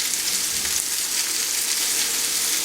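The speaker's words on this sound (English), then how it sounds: "We're just basically browning the meatballs." Meatballs browning in a hot pan for spaghetti and meatballs, a steady dense sizzle and crackle of frying oil throughout, fairly close and loud with no talk.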